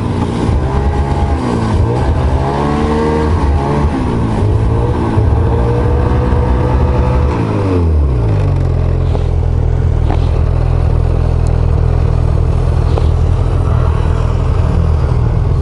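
Two snowmobiles with 600 E-TEC engines accelerating side by side in a race, close and loud, their revving pitch sweeping upward in repeated surges before settling into a steady, roaring drone.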